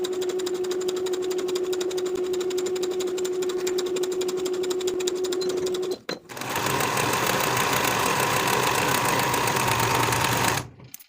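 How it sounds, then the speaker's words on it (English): Sewing machine running side seams on a dress: a steady high mechanical whir with a constant tone for several seconds, a brief stop, then a louder, faster rattling run before cutting out, close and without speech. "Sew both side seams with a 3/8 inch seam allowance"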